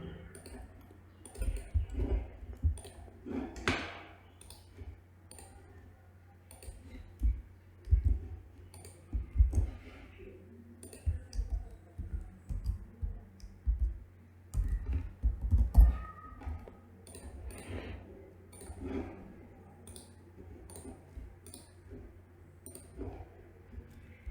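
Someone types a formula on a computer keyboard, irregular bursts of close key clicks and taps separated by short pauses over a quiet room background.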